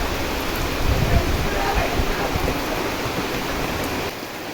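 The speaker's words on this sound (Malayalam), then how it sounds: "ഇവിടെ നല്ല മഴയാണ് കേട്ടോ" Heavy rain pours down steadily, a dense, continuous hiss and patter that stays loud throughout with no pauses.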